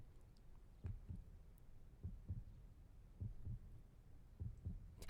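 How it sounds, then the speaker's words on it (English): A slow, steady heartbeat from the visual novel game 428: Shibuya Scramble, soft low double thumps repeating at an even pace, faint and alone against a quiet background. "she could feel a heartbeat, steady and strong"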